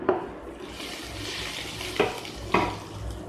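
Cumin seeds frying in a little oil in a pan while making Odia aloo chop, a steady close sizzle with a few sharp crackles and pops breaking through.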